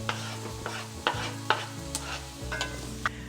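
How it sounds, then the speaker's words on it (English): Onion frying in a pan gives a steady soft sizzle, broken by a few sharp clinks and scrapes of a utensil stirring it, with no voices. "our onion is starting to soften and it's quite translucent and it's sizzling nicely"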